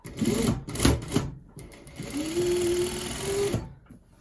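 A sewing machine stitching a topstitch along the collar seam of a kids' sweatsuit, running in two short whirring bursts with a steady rising motor whine in the second.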